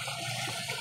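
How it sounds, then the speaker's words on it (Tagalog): Mountain-fed water runs in a steady, faint rushing stream, with no voices over it. "Galing bukid yung tubig nila."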